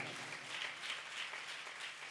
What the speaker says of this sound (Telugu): వాళ్ళు చప్పట్లు కొట్టి అభినందిద్దాం వాళ్ళని